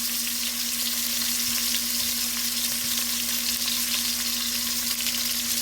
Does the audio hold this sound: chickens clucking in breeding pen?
no